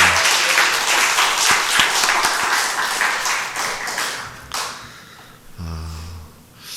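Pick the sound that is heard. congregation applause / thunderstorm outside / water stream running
congregation applause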